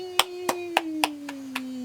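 Hand claps land in a slow, even rhythm, about seven crisp strikes close by, over a steady sustained tone in the background.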